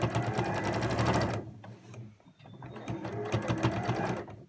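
A sewing machine stitches fabric for NHS scrubs in a loud, close, rapid whir, pausing briefly midway before starting up again with the same steady drive.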